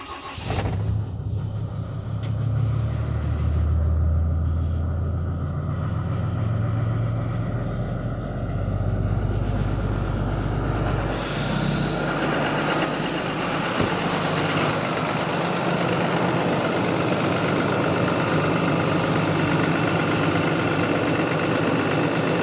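A Cummins 6.7 diesel pickup truck engine cranks and fires, then settles into a steady, deep, rumbling idle that runs on continuously and close by, with a faint higher whine layered over it.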